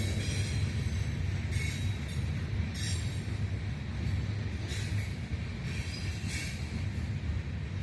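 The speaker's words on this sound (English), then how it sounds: "I'm gonna let the train go by." A train rolls past nearby, giving a steady, loud rumble with repeated brighter bursts of rail and wheel noise across the whole stretch, and no voices over it.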